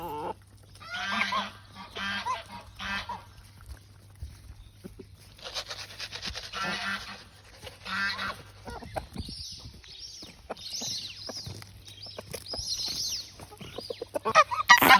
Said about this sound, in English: They're my Sebastopol geese and all my chickens and my rooster